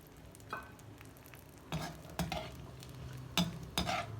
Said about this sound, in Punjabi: ਹੁਣ ਅਸੀਂ ਕਿਸ਼ਮਿਸ਼ ਜਿਹੜੀ ਹੈ ਇਹਨੂੰ ਹਲਕਾ ਜਿਹਾ ਅਸੀਂ ਰੋਸਟ ਕਰ ਲੈਣਾ ਹੈ